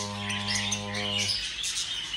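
Pet lovebirds and budgies chirp and twitter in a busy aviary chorus, opening with a steady held whistle-like tone that cuts off midway while the bright chatter continues.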